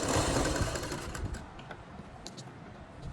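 A sewing machine stitches cloth while making a kachhera, a fast steady mechanical rattle of the needle up close that eases slightly after the first second, with a few light clicks, and no voices.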